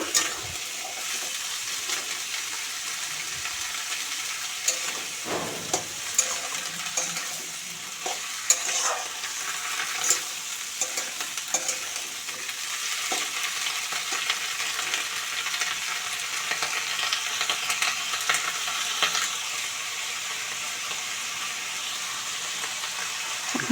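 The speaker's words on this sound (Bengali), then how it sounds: "এখন হালকা একটু ভাজি করে নিব" Jiyel fish with winter vegetables frying lightly in a pan, a continuous bright sizzle broken by scraping stirs from a spatula, close and fairly loud with no one speaking.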